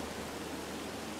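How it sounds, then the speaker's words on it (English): Waterfall in the video game Firewatch, a steady, broadband rushing hiss with no variation or distinct events, heard alone without talk. "that's the waterfall"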